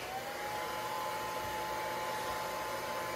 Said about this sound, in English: So this heat gun actually is a good technique